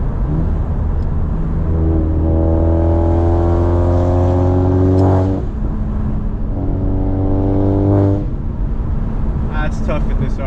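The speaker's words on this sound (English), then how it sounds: "Let's see if we can get a nice little blow-off valve noise." Modified Audi RS5 engine heard from inside the car while driving, with a loud, steady drone rising in pitch through two pulls and dropping between them. No distinct blow-off whoosh stands out.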